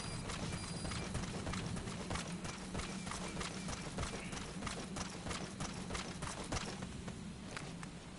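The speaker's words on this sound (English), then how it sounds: "There's the horse." D-Horse's hooves in Metal Gear Solid V clip-clop in a fast, steady gallop rhythm, loud and continuous over a rumbling background for the whole stretch.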